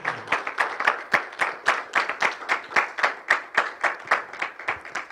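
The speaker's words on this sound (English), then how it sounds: "Can we give the Lord a praise clap just for that?" A church congregation gives a praise clap during a Sunday service, with many hands clapping together in a steady, even rhythm of about three beats per second, sharp and close throughout.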